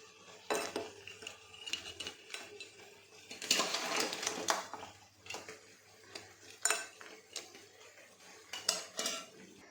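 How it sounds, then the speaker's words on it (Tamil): Crab gravy being stirred in a cooking pot, with repeated clinks and scrapes of a spoon against the metal, loud bursts clustered around the middle, and no talking. "நல்லா கிளறி விட்டுட்டு"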